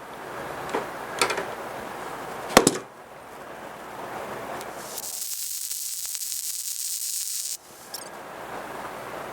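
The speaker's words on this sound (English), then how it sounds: "I'll go ahead and fully weld it." Welding on the mounts of a shop crane: a bright, steady hiss and crackle of the arc runs for a couple of seconds, with a few clanks and scrapes of metal before it and a low hum under it.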